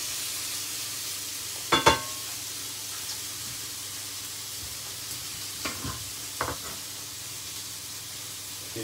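Steak searing in a hot pan, a steady low sizzle throughout with a couple of sharp clanks and scrapes as it is turned, close and fairly quiet.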